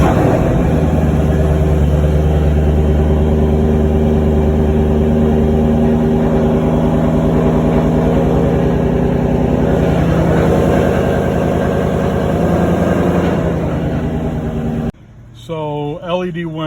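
A 2019 Ford Mustang fitted with an alky control kit runs with a loud, steady low engine rumble and idle drone for most of the stretch, which cuts off abruptly near the end as a different, quieter sound takes over.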